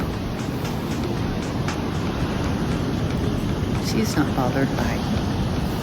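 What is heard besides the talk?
white-topped ocean waves crashing on a beach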